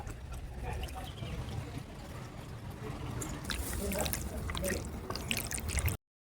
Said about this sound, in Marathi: चला तर पहिल्यांदा पाणी घालून घेऊया, नंतर बोलूया.